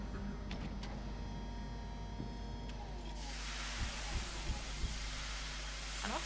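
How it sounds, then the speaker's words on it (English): Steam hisses in the video game Rain World, a broad, steady hiss that switches on partway through and continues under low soft thuds and background game noise. "I'm up so high that it doesn't drop water, it drops steam."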